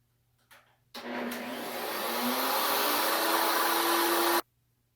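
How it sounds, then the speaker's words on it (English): A wood router cuts a custom inlay, a loud, steady high whine that starts abruptly, holds for about three and a half seconds with slight rising pitch, then cuts off sharply, with no voices. "Reset the depth of my router bit so I'm not putting too much stress on it."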